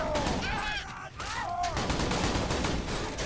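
Shotgun-style gunfire in Borderlands 2, a rapid burst of crackling shots and impacts over game noise with a brief voice-like tone, dense and fairly loud throughout.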